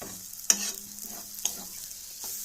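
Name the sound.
stirring and frying radish ghonto in a pan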